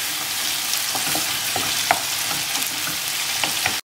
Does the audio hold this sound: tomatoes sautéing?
yes